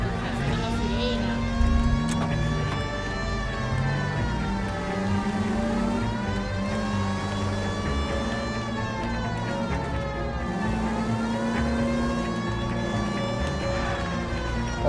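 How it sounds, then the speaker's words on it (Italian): A police car siren in the video game L.A. Noire wails steadily through the whole stretch, rising and falling under a constant engine and traffic drone, loud and close. "La sirena."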